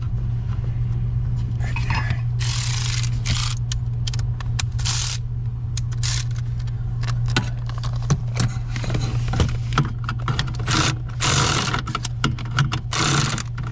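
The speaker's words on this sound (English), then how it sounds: "Kind of probing around with that socket." Metal socket on an extension scrapes and clinks against hardware while probing for a bolt head under a 2004 Chevrolet Suburban 5.3 being repaired for a loose brake pedal; irregular close rattles and taps over a steady low hum.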